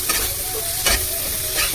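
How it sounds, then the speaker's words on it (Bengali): Thinly sliced potatoes sizzle in hot spiced oil for a tilapia fish curry, a close, steady frying hiss broken by short bursts of stirring. "আলুটা পাতলা পাতলা করে কেটেছি, আলু দিচ্ছি। আলুটা একটু ভাজা ভাজা হবে"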